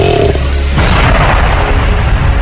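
A huge explosion sound effect booms in loud and deep, swelling into a heavy rumbling blast that sustains and rolls on without fading, with no voices present.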